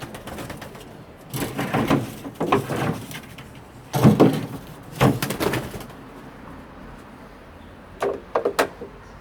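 Bursts of fluttering wingbeats and soft thumps as pigeons come down one after another, with quiet pauses between, close by and without talking.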